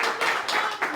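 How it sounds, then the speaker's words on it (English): A round of applause from an audience at a district scouting roundtable meeting, a short burst of dense clapping heard close and fairly loud for about a second. "So round of applause."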